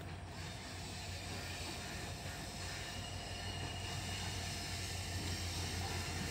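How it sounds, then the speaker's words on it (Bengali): A train pulling into a railway station, a steady loud rumble of wheels and carriages with a low mechanical drone and faint metallic rattling, continuous and close throughout. "এখন ট্রেন চলে এসেছে"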